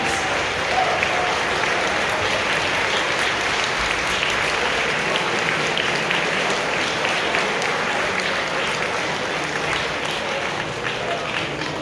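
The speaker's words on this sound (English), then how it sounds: "So give yourselves a massive round of applause." A large convention crowd at a closing ceremony breaks into a sustained round of applause, dense and steady for the whole stretch, with faint cheering mixed into the clapping.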